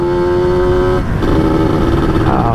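A Yamaha RXZ two-stroke motorcycle with a standard exhaust and carburettor runs loud and close, holding a steady buzzing tone, then dipping briefly and rising again in a rougher rev.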